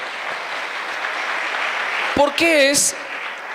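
A church congregation applauding during a service, a steady wash of many hands clapping that continues as someone briefly speaks loudly over it.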